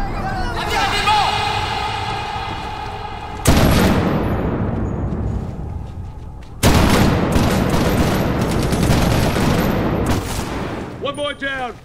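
Heavy gunfire in Medal of Honor Warfighter: sustained loud bursts of shooting, with two sudden sharp booms mid-way, voices and music running underneath.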